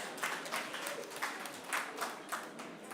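Scattered applause from a conference audience after a $40 million pledge announcement at an Africa Day session, fairly faint and distant, a few rhythmic claps standing out over a soft wash.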